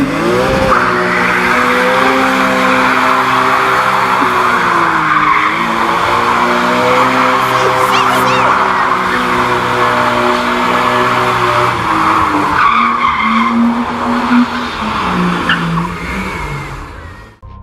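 A BMW E36 M3 drifts through a drift competition event in London in Need for Speed Shift. Loud, continuous tire squeal sits over a revving engine that rises and falls throughout, with no speech.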